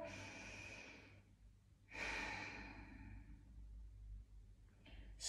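A deep, slow exhalation during a children's stretching class, a soft airy breath out that swells and fades, followed by another breath, close and fairly quiet with no talk.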